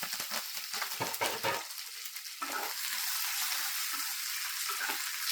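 Mustard seeds, urad dal, curry leaves and green chillies spluttering in hot oil for a potato puttu, with dense crackling and popping throughout that settles into a steady close sizzle after a brief lull.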